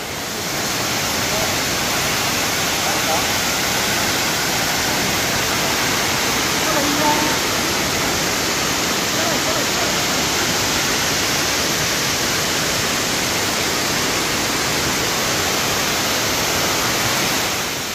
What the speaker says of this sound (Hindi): इधर पे झरना और पानी आ रहा है